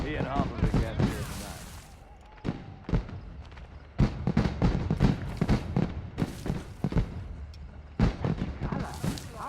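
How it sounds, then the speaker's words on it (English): Fireworks bursting in the Assassin's Creed Rogue video game, a rapid run of sharp pops and booms spread through the whole stretch, with game crowd noise and chatter underneath. "Those fireworks are truly impressive, I must say."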